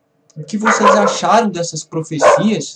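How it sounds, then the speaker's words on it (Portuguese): A dog barks a few times in the background, short yips mixed under someone speaking Portuguese continuously throughout. "Desculpem o latido do cachorro"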